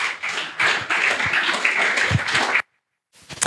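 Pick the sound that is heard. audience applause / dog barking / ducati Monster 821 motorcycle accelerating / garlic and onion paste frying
audience applause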